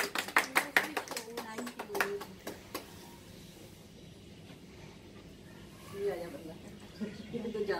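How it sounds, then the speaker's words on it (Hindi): An audience claps at a club's song-release event, with a burst of sharp, fairly close hand claps that quickly thins to a few scattered claps and fades into quiet room noise and faint talk. "प्लीज, सभी तालियां बजाएं।"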